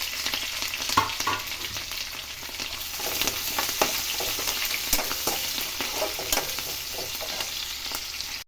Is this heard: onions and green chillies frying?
yes